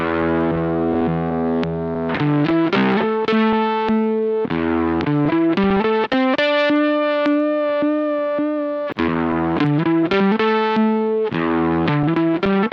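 Distorted electric guitar notes pass through an effect that an Arduino-driven digipot modulates with a rising sawtooth wave, so the level swells in repeated ramps over sustained chords, loud and close with no talk.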